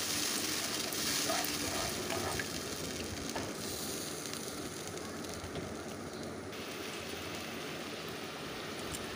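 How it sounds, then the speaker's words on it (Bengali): Ground spice paste thinned with a little water fries in a wok, producing a dense, rain-like bubbling sizzle that runs steadily throughout, close and even, with no talking. "এবার ভালো করে কষিয়ে নিচ্ছি"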